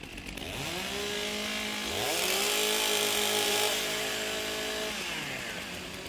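Chainsaws rev up as athletes warm up their saws on stage at the STIHL Timbersports Australian Women's Championship, loud buzzing engines rising and falling in pitch across the whole stretch.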